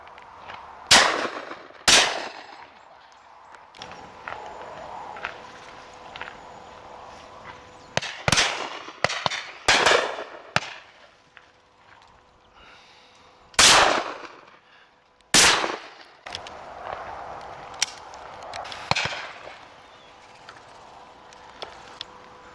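Shotgun shots fired at pheasants and partridges on a driven game shoot, several sharp cracks spaced irregularly, some close and loud, others fainter and distant, with open outdoor ambience between them.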